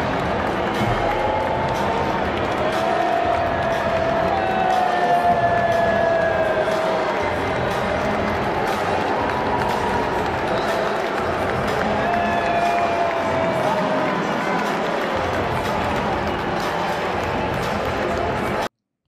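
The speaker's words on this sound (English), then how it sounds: "you can hear the boos there" Stadium crowd booing Donald Trump as he walks in at a tennis event: a sustained, loud mass of crowd noise rolling on without break, with a voice speaking over it.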